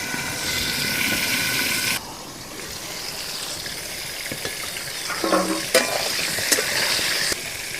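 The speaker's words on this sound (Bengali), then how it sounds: "পটল ভাজার জন্য আমি কড়াইতে সাদা তেল দিয়ে দিলাম। পটলগুলো এবার আমি ভেজে নেব।" Pointed gourd, or potol, fries in white oil in a kadai. A steady sizzle and hiss runs under occasional stirring and scraping, and the sound briefly drops and changes partway through.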